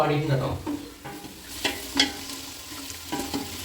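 Onions for chicken biryani are stirred and sautéed in a pan, with a soft continuous sizzle broken by several scraping spoon strokes at irregular intervals.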